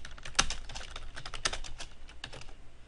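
Steady typing on a computer keyboard: a quick run of light, close key clicks with a couple of sharper, louder keystrokes standing out.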